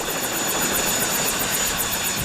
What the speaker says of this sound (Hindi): वो हेलीकॉप्टर।